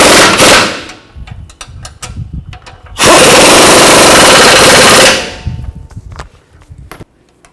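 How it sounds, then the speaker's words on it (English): An 18mm socket on a power tool snugs down front lower control arm bolts on a 2007-16 GMC Acadia. It gives loud rapid impact bursts, with one long two-second hammering run between shorter rattling bursts and clanks. "Now I'm going to snug these down first."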